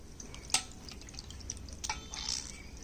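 Water drips and trickles while flour dough is rinsed in a bowl in a home kitchen, a few close splashes and drops landing over a soft, steady running-water background.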